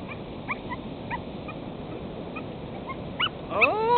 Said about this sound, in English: Swimming dog.